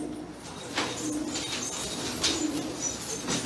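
Manafikh tumbler pigeons cooing at a pigeon show ahead of an auction, soft, low, rolling coos repeating through a faint background, with no voices.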